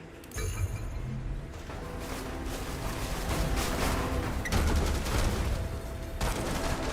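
Medium mechs in the video game Phantom Brigade fire rapid-fire weapons. The result is a steady, fairly quiet wash of continuous shooting and crackling impacts that runs through the whole stretch.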